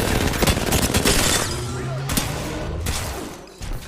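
Automatic gunfire bursts in the battle royale game Apex Legends, dense repeated shots over the first seconds and again near the end, mixed with game effects while players talk excitedly.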